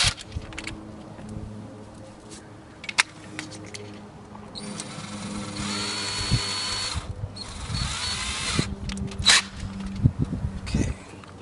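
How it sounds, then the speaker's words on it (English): A 5/32 drill bit run with a power drill into a car trunk lid while fitting a license plate flipper, giving steady whirring bursts with brief pauses, fairly close and unaccompanied by talk. "Get our drill out here. This is a 5/32 drill."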